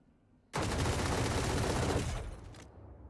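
A sudden loud burst of rapid automatic gunfire in a shooter video game lasts about a second and a half, then drops to a thinner rattling tail before cutting off.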